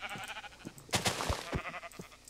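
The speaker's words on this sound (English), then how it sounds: "I see more sheep" Minecraft sheep bleat in a game, several short wavering calls close by, one standing out loudest, with small clicks and game noises between them.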